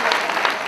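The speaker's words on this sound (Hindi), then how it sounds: "एक बार जोड़ा तालियां" Audience applause at a Hindi comic poetry gathering, a short steady burst of dense clapping from a crowd, loud and close throughout.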